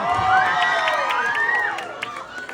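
Crowd cheering and shrieking at a pageant national costume segment, a loud burst of rising whoops and screams from the audience that fades near the end.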